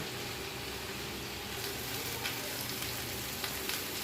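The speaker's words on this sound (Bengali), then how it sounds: "এই লোহার কড়াই থেকে আমি এনামেলের কড়াইতে ঢেলে নিচ্ছি" Mixed vegetables for shukto sizzle steadily in an enamel wok, with a continuous loud hiss and faint scraping ticks.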